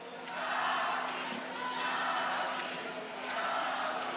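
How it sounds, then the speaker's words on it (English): A football crowd cheers and chants a player's name in swelling waves, a distant, muffled roar rising and falling in a rhythmic chant. "Fans cheering Capi,"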